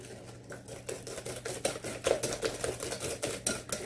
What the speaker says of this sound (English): So let's mix this up well.